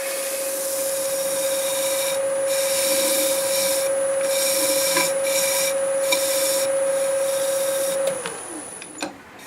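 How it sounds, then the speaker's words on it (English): White Scotch-Brite pad rubbed against spinning turned wood on a lathe over sanding sealer, a steady loud whirring hiss with a constant motor hum that winds down near the end as the lathe slows. "Now I'll use this white Scotch-Brite."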